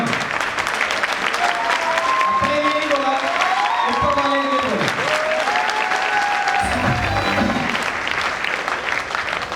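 A large seminar crowd keeps clapping loudly and steadily throughout, with a few cheers, while someone speaks over the applause into a microphone.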